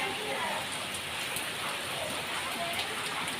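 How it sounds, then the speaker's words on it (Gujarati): Heavy rain pours steadily at a home with a flooding verandah, a dense continuous hiss that stays loud and even throughout with no break. "બહુ ભારે વરસાદ આવ્યો અમારા આજ"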